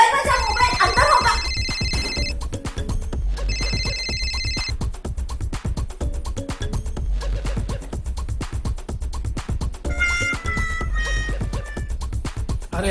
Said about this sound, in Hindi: अरे मेरा मोबाइल बजा, मोबाइल अंदर होगा।